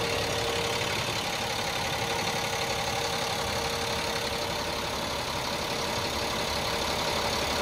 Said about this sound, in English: That's the hydraulic ram that lifts the cab.